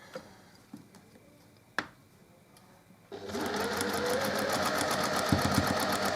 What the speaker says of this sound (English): So just by doing some reverse stitches on the end, just making sure that it's not going to come undone.